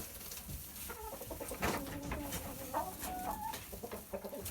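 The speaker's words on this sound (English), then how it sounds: "Welcome home, chickens." Chickens cluck inside a coop, a busy mix of short clucks and warbling calls from several birds nearby, fairly quiet with a soft background rustle.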